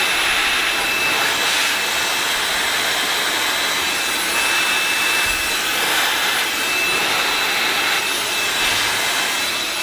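A hair dryer blows on curled hair as a continuous loud, steady airflow roar that holds unbroken for the whole stretch, close by and with no talking.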